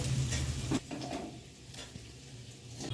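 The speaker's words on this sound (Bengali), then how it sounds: "আলুগুলোকে আমি একটু ভেজে নেব।" Potatoes for aloo dum fry in hot oil, a faint, close sizzle with a light scrape or tap of stirring partway through.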